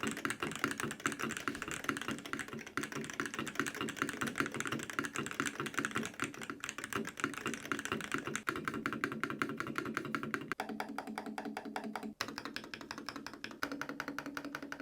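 Rapid, continuous typing on a clacky Made68 Pro mechanical keyboard, keys rattling in a quick uneven rhythm, close but fairly quiet.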